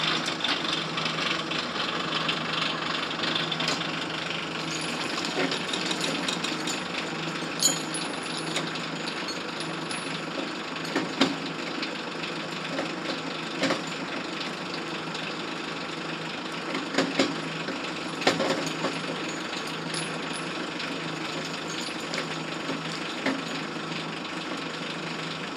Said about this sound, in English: got a little typhoon winch. We're gonna winch up this maple.